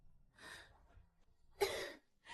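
Two soft, deliberately weak coughs, practiced with care in a period martial-arts drama scene, are heard close and alone in near silence. The second is sharper and louder than the first.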